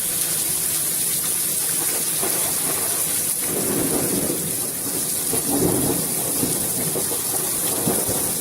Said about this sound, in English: The heart of the storm is over us right now.